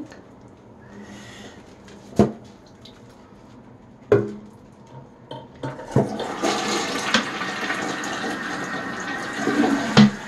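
Water rushes and splashes as a Rainbow D4C SE vacuum's water basin, full of dog hair, is rinsed out, beginning with a couple of sharp knocks before a loud, steady gush of running water fills the second half.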